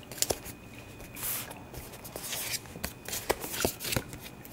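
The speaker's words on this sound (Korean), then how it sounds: "그러면 추가 카드 두 장을 더 뽑아 볼게요" Tarot cards being shuffled and drawn close up: soft riffling swishes with a few sharp card snaps and taps, quiet, with no speech.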